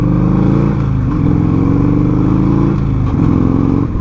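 A 1984 Harley-Davidson FLT Tour Glide motorcycle engine revving loud and close, its deep throbbing rumble rising and falling in pitch through a few throttle swells.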